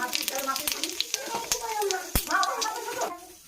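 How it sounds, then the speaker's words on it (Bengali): Cumin seeds hit hot oil and crackle sharply in a quick run of pops over a steady sizzle, heard close up with a voice talking over the frying. "তেল গরম হয়ে গেছে, এবার দিয়ে দেবো জিরে"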